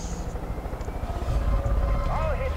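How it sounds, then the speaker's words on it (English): A helicopter in the video game Far Cry 5 drones with a low rotor thump under game ambience, while a player talks over it and a faint whine rises near the end. "Oh, there's a helicopter."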